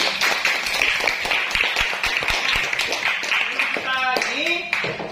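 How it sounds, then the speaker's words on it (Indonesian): A classroom of students claps together in a mathematics lesson, producing a steady burst of many hands with some sharp distinct slaps, loud and close, with children's voices and a squeaky tone mixed in toward the end. "tepuk tangan untuk kita semua dulu"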